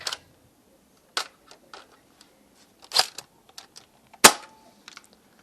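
Dry firing a Blue Danube Aeon Pro blaster gives a few sharp, isolated clicks and snaps spread over several seconds, close by with quiet gaps between, with no voices.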